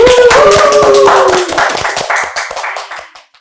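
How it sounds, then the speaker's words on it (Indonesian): A small audience in a podcast studio claps in a short, bright burst with a voice rising over the start, the claps thinning into scattered slaps and fading out within about three seconds. "Kasih tepuk tangan dong."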